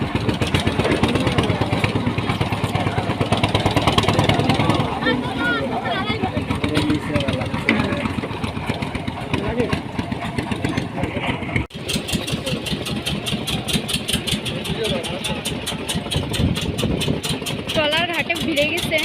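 Steady engine of a passenger trawler boat crossing to a river ghat, droning and idling nearby throughout, with people talking over it.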